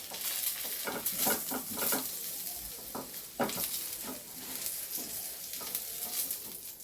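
Brinjal slices frying in oil, a soft, fairly quiet sizzle with clustered scraping and tapping from turning the pieces, irregular bursts over a steady hiss, no voices.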